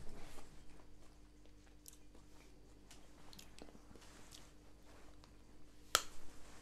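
A raw carrot being bitten and chewed, with soft crunching spread across the clip and a sharp crisp snap near the end, close and quiet.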